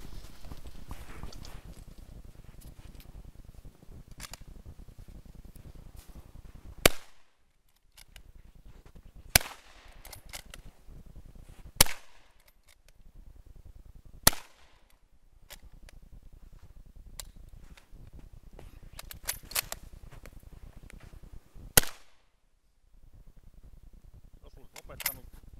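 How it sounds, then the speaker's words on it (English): Rifle shots fired from a kneeling position at a Winter War commemorative shooting competition: about five sharp, loud reports several seconds apart over steady outdoor background noise, with a few fainter knocks between them. "shoot 5 other targets from kneeling"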